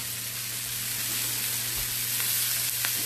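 Cabbage fries in a cast iron skillet with a steady, even sizzle that holds at moderate loudness from start to finish, backed by a low hum and no voices.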